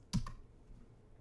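A single crisp click or keystroke on a computer keyboard while entering a password, one sharp near tap followed by quiet.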